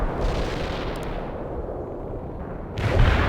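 Artillery barrage in the real-time strategy game World in Conflict: loud, dense rumbling shell impacts blend into a continuous roar, with a fresh heavy burst near the end.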